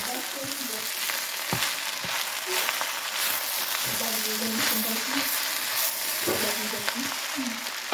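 Ingredients with garlic sizzle quietly in a pan for shrimp fried rice, a steady soft frying hiss with occasional stirring knocks and clatter.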